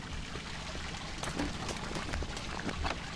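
Water pours and trickles in the horror game Cry of Fear, a Half-Life 1 mod, as a faint, steady flow with scattered drips and no one speaking.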